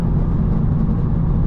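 A tuned 2025 BMW M4 Competition xDrive with its exhaust valves closed, engine droning low and steady during a downshift, a continuous muffled rumble with no talk over it.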